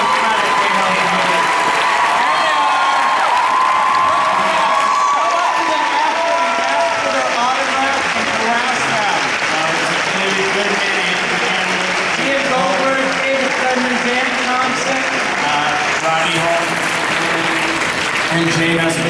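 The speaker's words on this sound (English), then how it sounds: "let's give them a hand" Sustained applause from a large convention-hall audience at a Comic-Con television panel, dense clapping mixed with cheers and scattered voices continuing loud and unbroken throughout.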